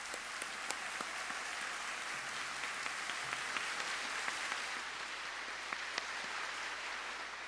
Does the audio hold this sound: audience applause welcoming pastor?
yes